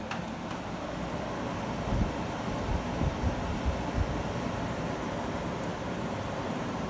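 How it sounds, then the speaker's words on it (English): A 1970 Emerson Quiet Kool 7,500 BTU window air conditioner runs with a steady, low broadband hum and airflow rush, its compressor barely noticeable, with a few faint thumps over the continuous drone and no talking. "Almost can't tell the compressor's running on this thing."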